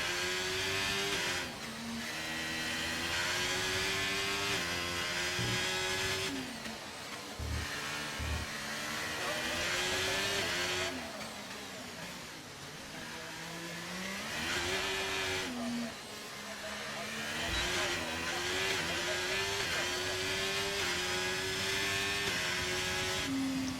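Ferrari Formula 1 car engine in a racing video game on a Monaco lap, a loud, steady high-pitched whine that rises and falls with gear changes throughout, with music or commentary faintly beneath.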